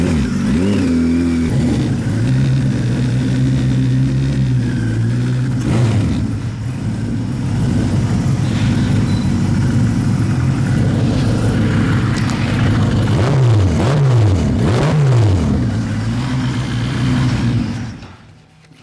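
Turbocharged 1978 Kawasaki KZ1000 motorcycle near an icy ramp, engine loud and close, idling then revving in rising and falling sweeps for a couple of bursts before the sound cuts off at the end.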